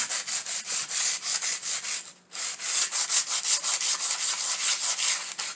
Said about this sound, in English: anywhere you're painting, sand it down